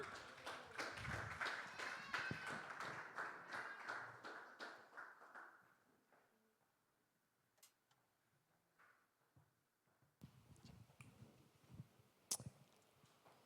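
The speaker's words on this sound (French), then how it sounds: "Est-ce qu'on peut applaudir notre équipe de louanges ce matin?" A church congregation claps for its worship team on a Sunday morning, a brisk, moderately close round of applause that thins out after about five seconds, leaving scattered taps and quiet room noise.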